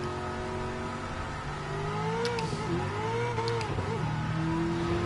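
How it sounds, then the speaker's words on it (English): A car in Gran Turismo racing spins its wheels with a warped drive setup, its engine whining and revving in rising and falling tones under a steady mechanical roar, with no talking. "even then you can hear the wheel spin"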